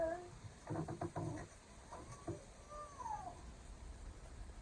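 A pet cat meows and yowls in the background of a home while a person talks nearby, the cries coming in short bursts of rising and falling wails.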